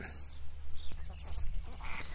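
Ducks quack in short, nasal bursts nearby on a farm pond, several calls overlapping against a faint outdoor background.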